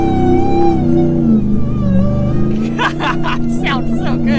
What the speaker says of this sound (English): that supercharger whine